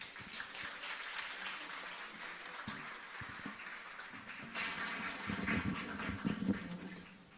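An audience at an Amway business talk applauds in a dense, faint spread of clapping that swells toward the end.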